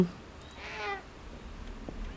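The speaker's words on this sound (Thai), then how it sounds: "แมวมาอยู่หน้าห้องเราอ่ะทุกคน" A cat in the horror game Cursed Enigma, set in a midnight apartment, gives a single soft, mid-distance meow against quiet ambient room tone, with no one speaking.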